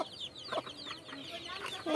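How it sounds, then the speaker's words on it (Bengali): White hens and their chicks cluck and cheep softly at close range, a busy run of short calls and peeps with no one talking. "আজকে আমাদের সাদা মুরগির ভিডিও নিয়ে আসলাম"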